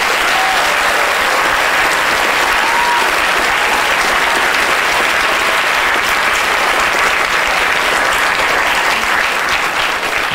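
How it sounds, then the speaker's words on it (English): Audience applause at a live science stage show in Cheltenham, a loud, dense and even wash of many hands clapping that holds steady for the whole stretch, with no speech over it. "A big round of applause, everyone."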